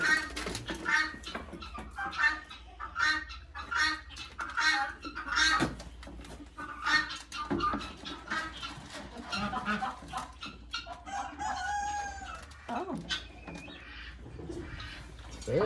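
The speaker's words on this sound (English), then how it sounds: "I heard a rooster crow." A rooster crows somewhere in the background while people chat nearby, with chickens and scattered bird calls mixed into the farmyard ambience.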